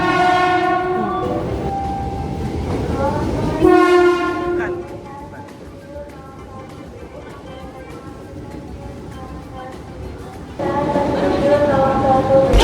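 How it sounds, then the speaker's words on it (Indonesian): A train arrives at a station with a loud, sustained horn blast, then rumbles and rattles along the rails before the horn sounds again near the end. "Kereta kita datang."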